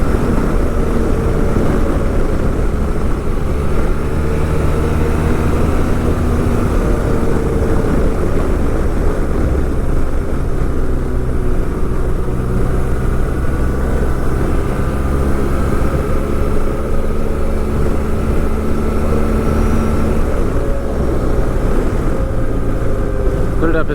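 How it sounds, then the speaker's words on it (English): A 2011 BMW R1200GSA motorcycle cruises in sixth gear, its engine a loud, continuous low drone blended with heavy wind rush, steady without a break. "Put it up in 6th gear, and you can just cruise all day on this bike"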